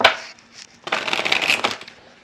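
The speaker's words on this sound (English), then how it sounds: "So let me shuffle the cards." A deck of tarot cards being shuffled close by, a short riffle followed by a longer burst of rapid flapping and sliding card noise, fading at the end.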